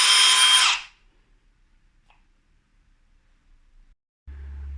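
A Bosch GSB 18V-150C Biturbo cordless impact drill whirs loudly for under a second and then cuts off, leaving near silence before a low hum starts at the end.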